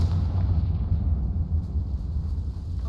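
A deep, rumbling blast from a Confringo spell in a wizarding video game, one heavy explosion that rolls on loudly for a few seconds.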